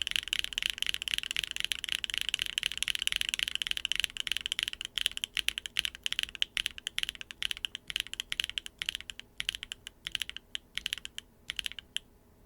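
Tactile Toro Studio x BSUN Strawberry Cheesecake R2 switches are typed on in a Neo 75 CU keyboard with no foams, a carbon fiber plate and GMK Serica keycaps, first as a fast continuous clatter, then as slower distinct close keystrokes.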